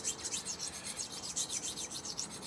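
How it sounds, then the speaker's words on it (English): A file rasps back and forth across a butter knife blade to take off its serrations, making quiet, rhythmic scraping strokes about five per second, close and alone. "I was sharpening a butter knife."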